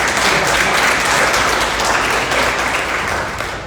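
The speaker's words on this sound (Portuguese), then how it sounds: "As palmas do Senhor" Church congregation applauding at an evening service, a dense continuous wash of many hands clapping together, loud and steady before fading slightly at the end.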